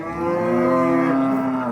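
A single long cow moo at the Beshariq livestock market, loud and close, holding steady for over a second before fading, with no talk around it.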